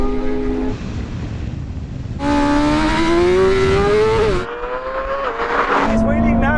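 A Ferrari SF90 and a BMW M superbike accelerate hard in a drag race, a loud, close, rising engine roar with the pitch sweeping up through gear changes and a voice talking underneath.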